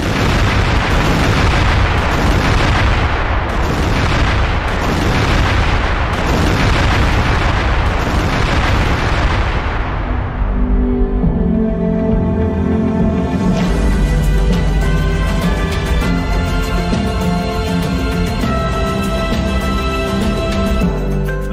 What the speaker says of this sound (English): This is the moment that Israeli airstrikes hit.